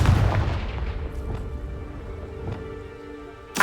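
A Confringo blasting spell explodes in the video game Hogwarts Legacy, a loud boom at the start decaying into rumbling debris and crackle, with a sharp burst near the end.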